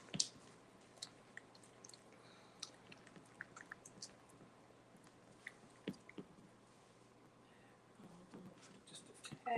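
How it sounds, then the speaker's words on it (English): A whisk stirring seasonings in a bowl for cheesy scalloped potatoes, giving soft, faint scraping and tapping sounds at an irregular pace, close by and quiet. "I really want to whisk all those seasonings around, so let me use my whisk."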